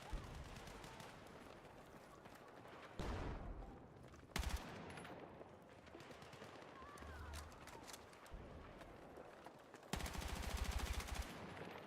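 Shotgun and automatic gunfire from a video game crackles in repeated bursts, kept faint and low in the mix with some sharper volleys standing out.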